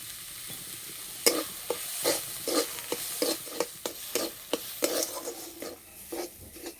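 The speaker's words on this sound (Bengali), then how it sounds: "হালকা আছে ভালো করে ভেজে নেব।" Sesame paste with onion, salt and pepper powder being stir-fried in a pan: a steady sizzle broken by about a dozen rhythmic scraping stir strokes, close and clear, with no talking.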